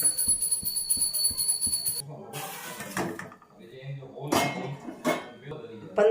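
A steel plate set upside down as a lid over a dhokla steamer, giving a few clattering metallic clinks and knocks at close range, mixed with brief handling noise and some speech.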